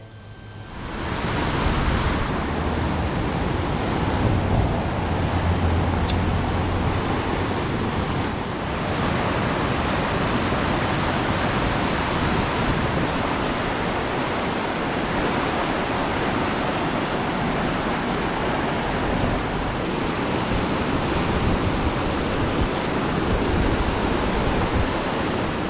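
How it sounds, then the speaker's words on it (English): The upper and lower falls at Yellowstone National Park give a powerful waterfall roar, a dense, unbroken rush of water that stays loud and even throughout, with wind mixed in and no speech. "That was a most beautiful waterfall."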